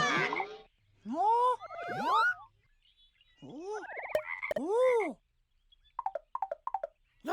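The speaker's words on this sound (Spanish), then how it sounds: "¡Rana!" A frog croaks in a series of springy, bouncing calls, a few long warbling croaks followed by short quick pops near the end, in a children's animal-sounds cartoon with little else around them.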